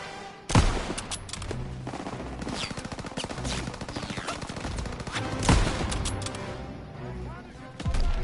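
Gunfire in the WWII shooter game Call of Duty WWII: a steady crackle of shots runs throughout, with two sharp louder reports, while someone talks over the action.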